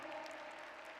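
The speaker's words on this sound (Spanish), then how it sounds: "Un fuerte aplauso para ella." Applause from a large audience at a world congress on early childhood public policy in Puebla, steady and continuous clapping filling the hall.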